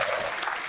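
Applause from an audience at a community gathering in a Chicago church hall, a short steady wash of clapping, fairly distant and even, with no talking over it.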